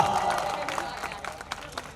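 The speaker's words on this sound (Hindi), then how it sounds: "जोरदार तालियों से आप लोग स्वागत करें एक मर्तबा नेताजी का" An audience at an All India Mushaira in Bihar, India, claps to welcome a senior minister. The applause is short and fairly quiet, with scattered claps that fade quickly as voices murmur underneath.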